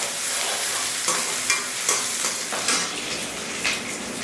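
Spices are tempered in hot oil, sizzling and crackling in a loud continuous frying hiss punctuated by a few sharp stirring clinks.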